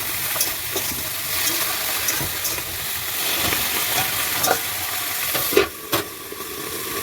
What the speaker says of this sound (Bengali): হলুদ দিয়ে দিন, হলুদ দিয়ে এটা ভাজা হবে